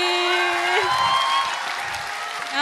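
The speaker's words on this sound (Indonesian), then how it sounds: "tepuk tangan sekali lagi" Applause from a gathered crowd at a political rally, steady and moderately loud, with sustained tonal music or feedback lines running over it throughout.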